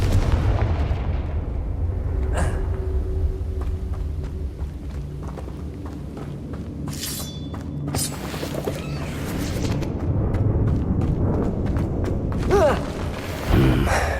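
Repeated Confringo fire-spell blasts from the Hogwarts Legacy video game, loud booming explosions and crackling bursts over a steady rumbling game soundtrack, with several sharp impacts toward the end.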